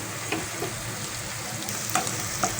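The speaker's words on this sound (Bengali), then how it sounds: "পেঁয়াজটাকে আমি অল্প কিছুক্ষণ ভেজে নিয়েছি যাতে কাঁচা কাঁচা ভাবটা চলে যায়" Onions sizzle steadily in a hot pan, a continuous crackling hiss with a few sharper pops and stirring scrapes, close and without talk.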